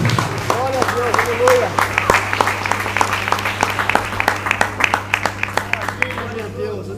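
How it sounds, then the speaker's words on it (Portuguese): A church congregation claps hands steadily and loudly for several seconds, the rhythm loose and overlapping, with a low constant hum and some voices underneath. "Pode sentar batendo palmas para Jesus."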